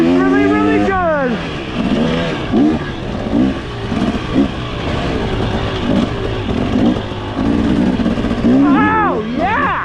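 A 2023 300 motorcycle on a test ride, its engine revving up and down with gear changes at the start and end, steady engine and wind noise throughout beneath a rider talking excitedly.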